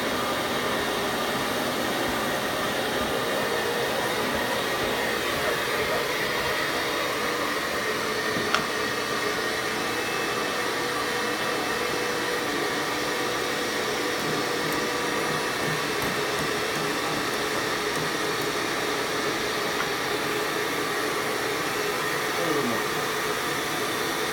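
An airflow cleaning tool blowing over a suit produces a steady, close, continuous rushing whoosh that holds an even level throughout with no clear breaks.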